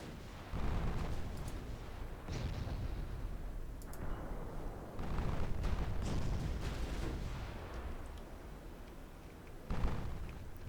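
Torpedo hits exploding against warships in Ultimate Admiral Dreadnoughts, a naval battle game, heard as several muffled, rumbling blasts rising and fading amid continuous distant gunfire.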